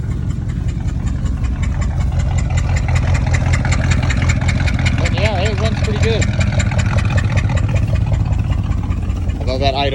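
A 1967 Dodge Coronet V8 idles with a steady, lumpy rumble close by, and a person talks over the engine throughout.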